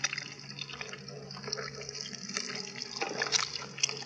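Eggs fry in hot oil with a pinch of turmeric for an Andhra-style egg curry, giving a continuous crackling sizzle scattered with small sharp pops, close and moderately quiet, with no talk.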